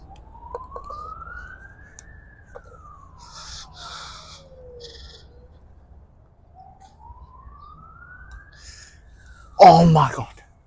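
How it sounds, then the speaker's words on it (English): An ambulance siren wails, rising and falling slowly, distant to moderate in level, on a golf course, before a loud burst of nearby noise at the end. "Due to that ambulance wailing the sirens."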